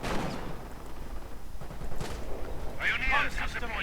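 Infantry gunfire crackles in a video game battle, scattered rifle shots and short bursts with a heavier volley near the end, all under a commentator's steady voice.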